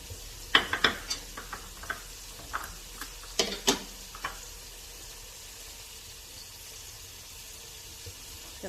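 Half a diced onion goes into a hot pan with sauce drippings for weekly meal prep, giving a few sharp clattering knocks and stirring scrapes over a steady, soft sizzle that continues alone afterward.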